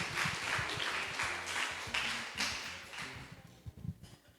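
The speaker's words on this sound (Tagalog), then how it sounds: "Palakpak po sa buhay na Diyos." Congregation clapping at a midweek church fellowship service, a broad wash of applause that fades out toward the end, leaving a few scattered claps and taps, with a low murmur underneath.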